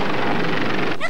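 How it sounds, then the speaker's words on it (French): A cartoon helicopter flies past with a rapid fluttering rotor chop, loud and close, cutting into a different tone just before the end. "Oh, grâce au ciel, c'est un hélicoptère!"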